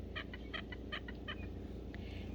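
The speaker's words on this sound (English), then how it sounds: "I'm sure you could hear the duck just a minute ago." A duck calls outdoors on a scenic mountain landscape, giving a quick series of short, nasal quacks at moderate distance, quiet but clear over steady low background noise.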